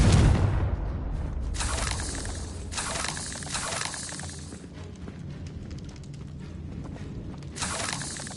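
Repeated heavy blasts from a Confringo fire spell in Hogwarts Legacy, several broad booming bursts a second or so apart over a rumbling, crackling game soundscape, loud and close.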